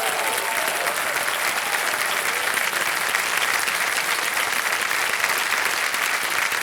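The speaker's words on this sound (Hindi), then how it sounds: "तालियां बज जाए इनके लिए" A studio audience on a television quiz show gives loud, sustained applause, many hands clapping close and steady for several seconds at an unbroken level.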